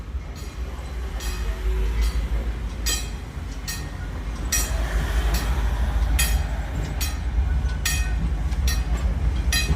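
A tourist train on the Santa Cruz Big Trees and Pacific line rolls along the tracks with a steady low rumble and regular loud metallic clicks from the wheels crossing rail joints, close by and sustained.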